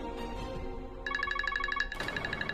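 A mobile phone ringtone plays a short repeating electronic melody of clear, evenly pulsed tones, shifting to a brighter phrase near the end over background music.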